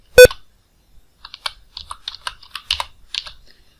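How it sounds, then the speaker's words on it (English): Caps lock key on a Windows computer keyboard pressed with accessibility toggle keys on: a sharp high beep rings out first, followed by a run of soft, irregular key clicks, quiet and close. "when I press the caps lock key, there's a slight beep"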